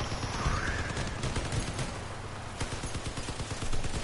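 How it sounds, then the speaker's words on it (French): Rapid bursts of cannon fire in the video game Crossout crackle and thud in quick succession, a dense volley of booming shots throughout. "C'est des canons, c'est pas la même chose."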